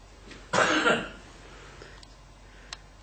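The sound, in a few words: person coughing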